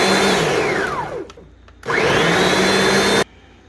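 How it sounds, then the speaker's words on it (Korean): A blender grinds kimchi seasoning ingredients, a loud close motor roar that dips and slows, surges back to full speed, then cuts off abruptly. "다 이렇게 넣고 갈아 볼게요"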